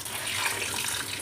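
A glass of water pours into a cooking pot of aloo gosht, a steady splashing rush of liquid that runs briefly and close up.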